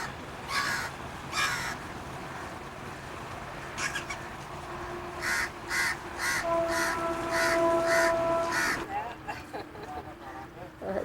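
A bird calls repeatedly at a roadside rest stop in India or Nepal, its harsh crow-like caws coming in bursts over a steady outdoor background with faint voices.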